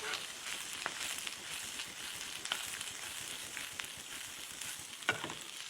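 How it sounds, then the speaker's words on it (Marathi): Chopped onion and masala sautéing in oil in a pan, a steady soft sizzle with occasional light stirring scrapes, close and even throughout. "व्यवस्थित मसाला परतून घेऊ"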